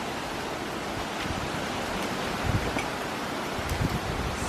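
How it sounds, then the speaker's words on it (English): A strong gust of wind during the Lilac Fire in San Diego roars steadily across the microphone as a dense, loud rush with small surges, filling the whole stretch without any voices. "a big gust of wind just passed by like crazy"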